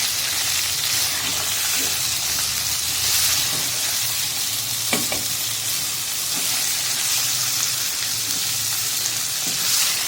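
Boiled guar beans with their strings removed fry in a pan with garlic, giving a steady, even sizzle throughout with a few faint stirring clicks and no talking.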